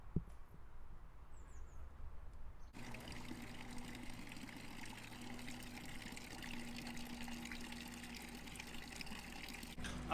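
Steady stream of water from a Zurich city fountain, a continuous trickling and splashing pour that starts abruptly after a quiet opening and runs unbroken at moderate loudness, with no talk.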